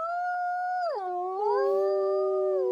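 A pet dog named Luna howls in a long, tonal, wavering cry that dips in pitch and then holds steady, close and clear against a quiet room.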